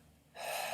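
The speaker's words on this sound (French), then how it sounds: "Inspire." A single sharp inhalation through the nose and mouth, taken during a karate sanchin dachi stance breathing exercise; after a short quiet lead-in, a loud airy intake rises suddenly and holds steadily to the end.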